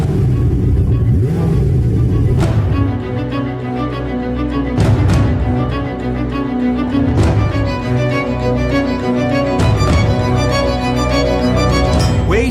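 Ferrari 488 Pista engine roars loud and close, the revs swelling and falling under dense layered music with sharp percussive hits throughout.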